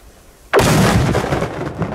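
A heavy firework detonates with one sudden, very loud bang outdoors in freezing icy conditions, then booms and rumbles on for over a second after the blast.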